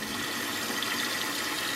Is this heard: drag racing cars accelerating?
no